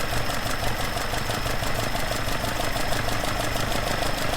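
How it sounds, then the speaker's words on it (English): Engine running steadily with twin Dellorto/Weber carburettors being balanced, a continuous close, loud mechanical hum and rumble with a faint knocking texture and no talk. "I'm going to rotate the screw to balance it up a bit, and you hear the tone of the engine changes."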